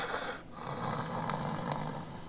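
A person imitates snoring with the voice, producing a rough, rattling, breathy snore that sounds close and fairly loud, with a brief pause near the start.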